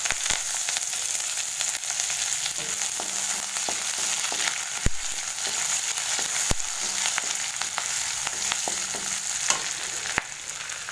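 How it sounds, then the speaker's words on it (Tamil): Chopped garlic, ginger, green chilli and curry leaves sauté in hot oil after cumin, giving a constant close sizzle broken by sharp clacks of a spoon stirring the pan. "இது ஒரு நிமிஷம் நல்லா வதங்கட்டும்."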